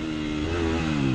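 A KTM 250 SX-F motocross bike runs on a dirt track on a hot day, its engine a steady buzzing drone with a slight rise in pitch, close and continuous.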